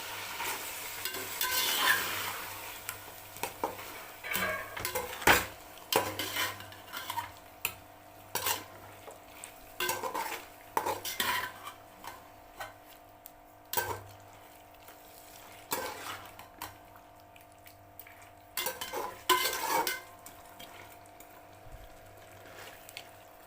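Spoon stirring thick curd into chicken biryani masala in a cooking pot, a series of scraping, squelching strokes with brief clinks against the metal, moderately close with no talk.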